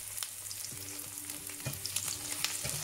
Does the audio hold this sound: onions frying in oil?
yes